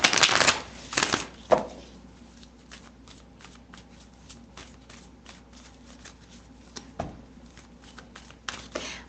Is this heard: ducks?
no